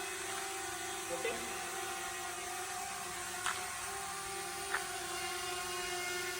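A DJI Mavic Mini drone hovers in flight, giving off a steady, thin high-pitched whine with a couple of faint clicks over a quiet background.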